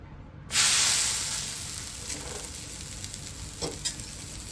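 Thalipeeth fries in oil on a pan. It starts with a loud sizzle that fades to a steady hiss, with a few faint clinks and stirring sounds and no talking.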